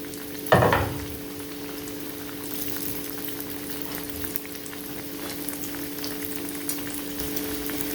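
Breaded chicken panee pieces are lowered into hot oil with a sharp initial splash, then a steady, continuous sizzle and bubbling of frying that carries on close and even.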